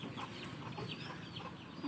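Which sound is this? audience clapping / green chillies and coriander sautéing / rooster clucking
rooster clucking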